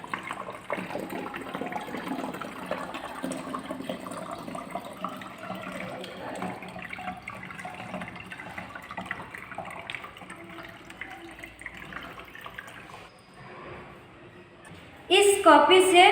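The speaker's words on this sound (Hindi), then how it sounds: "बैठाकर एक मॉग से पानी को इसके अंदर डालूँगी।" Water poured from a mug through a homemade funnel into a bottle, a steady splashing trickle running for many seconds, closer and louder in a brief burst near the end.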